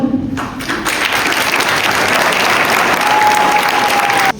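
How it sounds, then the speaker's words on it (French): A concert crowd claps loudly and continuously, a dense, steady burst of applause that ends abruptly. "vous fassiez un tonnerre d'applaudissements"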